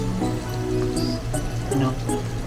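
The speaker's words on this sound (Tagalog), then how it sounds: "Lagyan din po natin ng patis." Fish sauce (patis) pours into a pot of arroz caldo as a steady close liquid trickle, alone with a low background hum.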